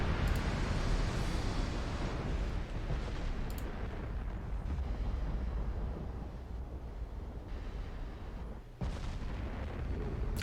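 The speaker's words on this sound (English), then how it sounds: "I don't know why we're firing when I had main gun fire mode to off." Naval main guns firing in a dreadnought battle game, heavy booming salvos rolling into a continuous loud rumble with a few sharper cracks, no voices.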